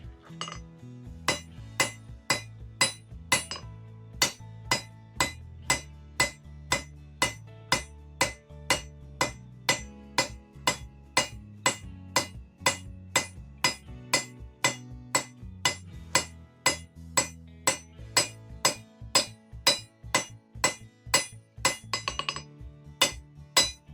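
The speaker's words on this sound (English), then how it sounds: "Forging a little bit of a rhombus at this point." Hammer forging hot metal at an anvil, a long run of sharp ringing metallic strikes in a steady rhythm, close and loud, each hit leaving a brief ring, with no talk.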